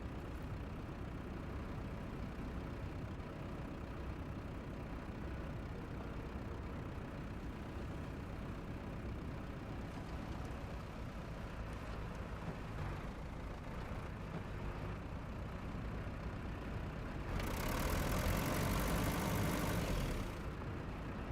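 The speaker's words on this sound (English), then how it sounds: "I've got the advanced special gearbox on and the bigger engine, so we're going to be going about as quick as the Forester can do" Forester truck with an advanced special gearbox and a bigger engine, driving in the video game SnowRunner, a steady low engine drone that holds even throughout and swells a little louder near the end.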